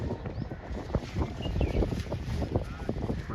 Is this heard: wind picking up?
yes